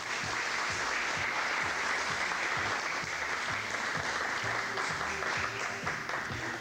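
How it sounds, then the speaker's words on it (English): An audience applauds students at a 1990 school quiz show competition, a steady sustained wash of clapping with a faint low rhythmic thumping underneath, no voices. "we ought to give all of these students a big round of applause"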